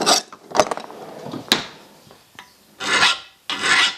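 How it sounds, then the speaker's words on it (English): A hand file rasps across the hardened steel jaws of a 150mm Minotaur bench vice, several distinct scraping strokes with brief pauses between them, close and fairly loud, the last two strokes longer and fuller. "Get a file on it."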